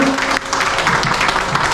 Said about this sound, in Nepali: प्लिज एक जोरदार तालीको अपेक्षा गर्न चाहन्छु